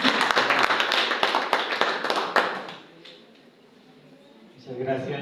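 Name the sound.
audience applause for guest preacher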